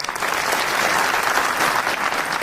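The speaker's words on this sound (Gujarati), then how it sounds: "ગમી હોત તાળી પાડજો" A crowd at a community gathering addressed by a political speaker claps steadily, producing a dense, even wash of applause that stays loud and continuous from start to finish.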